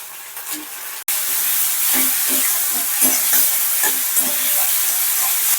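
Masala of salt, turmeric, ground coriander and cumin frying for a dhaba-style egg dish: a brief quieter moment gives way to a loud, continuous hissing sizzle with scattered stirring scrapes close by.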